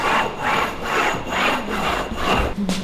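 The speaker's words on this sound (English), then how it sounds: "Just the process of burnishing the primer into the canvas." Primer being burnished into canvas for an image transfer, heard as rhythmic back-and-forth rubbing strokes, about five even passes, close and fairly loud with no talk.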